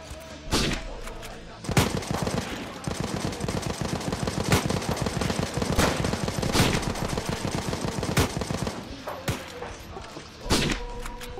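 Troops firing in a trench battle in a video game: loud, sustained bursts of rifle and machine-gun fire with rapid overlapping shots and heavy thumps, brief gaps between volleys.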